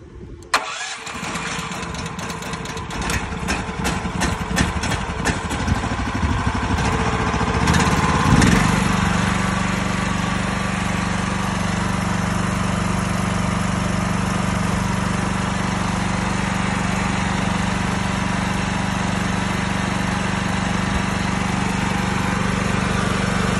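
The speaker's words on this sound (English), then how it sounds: "Generator is wireless remote start, or it's got a pull cord on it." A generator with a Predator engine on a pressure washing and detailing trailer cranks over with several clattering pulls, catches and settles into a loud, steady running drone up close, with no talk over it.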